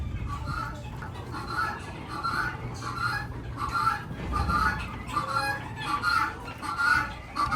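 Chickens at a poultry farm cluck in a steady series of repeated calls, moderately close, over a constant low background hum, with no talking.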